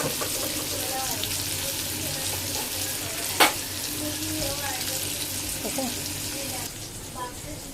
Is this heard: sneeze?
no